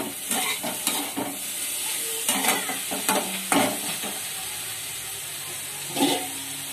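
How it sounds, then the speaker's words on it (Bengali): Banana stems fry in a pan while a utensil scrapes and stirs, with repeated clinking strokes over a steady hiss. "এবার আমার প্রায় ভাজা হয়ে এসছে।"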